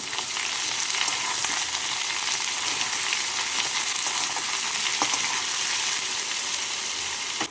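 Chopped garlic and onion frying with potatoes in hot oil, a loud continuous crackling sizzle that fills the whole stretch, close up, with only faint stirring taps.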